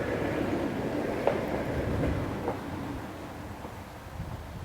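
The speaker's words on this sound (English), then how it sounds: "See even the noise of the truck going by." Heavy rumbling traffic sound of a truck passing in the distance, a steady low roar that slowly fades, faint and alone with no talk.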